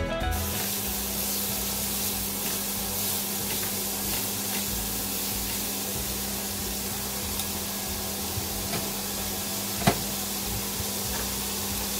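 Finely chopped white and red onions fry in a pan with a steady, close hiss and sizzle that holds constant throughout, with one faint clink near the end and no talking.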